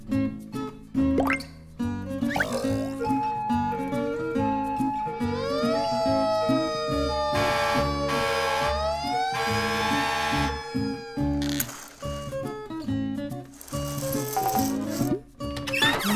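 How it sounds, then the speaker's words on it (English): A fire truck siren rises and sweeps in long wailing tones in the middle section, set against upbeat background music with rattling and plopping effects. "Fire truck."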